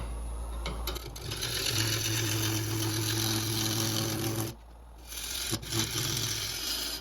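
A wood lathe turns a walnut blank as the tool cuts through a small knot, making a close scraping, rasping hum with a low rotating drone that drops out briefly near the end and then resumes.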